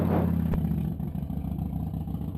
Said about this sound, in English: That's his motorbike.